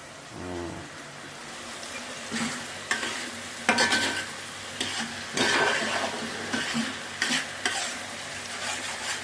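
Nellore fish curry cooking down in oil in a pan, with a steady sizzle and bubbling under repeated scraping and stirring strokes, close up and moderately loud, with no talk over it.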